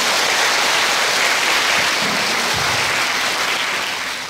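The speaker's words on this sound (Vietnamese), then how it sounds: "cho nên chúng ta có một tràng pháo tay để tri ân quý thầy" Buddhist gathering giving a round of applause to thank the monks, a loud, dense burst of many hands clapping that holds steady and then begins to fade.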